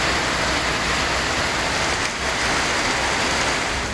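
Heavy monsoon rain pours steadily across Nagapattinam, Tiruvarur, Pudukkottai and Ramanathapuram districts in the morning, a dense continuous hiss with no pauses and no voices.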